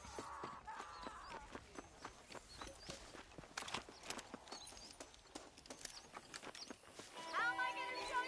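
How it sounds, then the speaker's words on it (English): Horse hooves clip-clop at a steady walking pace in the Western video game Red Dead Redemption, with soft rustling and creaking of gear around them and a brief louder burst near the end. "The horses are saddled up over here."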